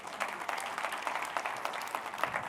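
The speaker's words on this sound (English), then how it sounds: "Give him a round of applause." An audience at a business event applauds steadily, a dense wash of many hands clapping at a moderate level with no voices standing out.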